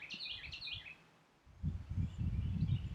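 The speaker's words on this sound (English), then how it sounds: "I hope you guys can hear that bird that's singing to me." A bird sings outdoors during an outdoor yoga session, a short run of bright chirping phrases near the start and fainter notes later, partly under low rustling and handling noise.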